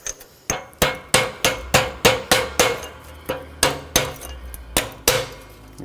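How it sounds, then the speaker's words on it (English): A rapid series of hard, ringing metallic strikes as a 36mm socket punches a bearing race out of a 2012-2017 Toyota Camry front hub, roughly fourteen close, loud hammer blows in steady rhythm. "take a 36mm socket, punch that out."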